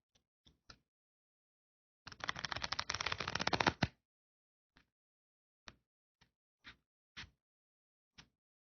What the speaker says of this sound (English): the close-up view of the move you just saw, the Zarrow Shuffle.